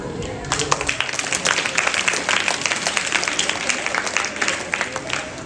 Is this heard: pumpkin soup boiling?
no